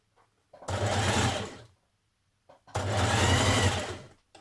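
A sewing machine runs in two bursts of about a second each, stitching a small turned-under hem along the bottom edge of a top. The bursts are steady and close, separated by a short quiet pause.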